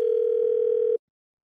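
A single steady telephone tone sounds on the line for about a second and then cuts off abruptly, clear and close, ahead of a prank call; no one speaks over it.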